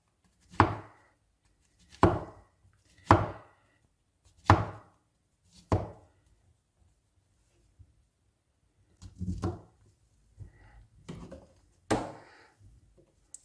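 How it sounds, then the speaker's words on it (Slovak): A knife chops mushrooms on a cutting board, about ten separate sharp knocks spaced a second or so apart, close and clear in a quiet kitchen. "Nakrájame si šampiňóny."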